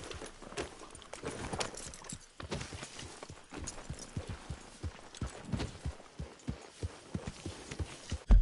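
Horse hooves clip-clopping at a steady gallop in the video game Red Dead Redemption 2, rhythmic close thuds over a rumbling background, with one loud hit at the end.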